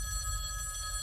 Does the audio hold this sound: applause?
no